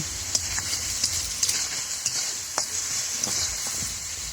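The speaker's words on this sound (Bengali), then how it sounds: "কলা মোচা দিয়ে আমি এই সবজিটা সুন্দরভাবে কষিয়ে নিলাম" Banana flower cooked down with sliced beans, potatoes and green chilies sizzles steadily in hot oil, with a string of soft spatula scrapes and taps marking each stir. There is no talking.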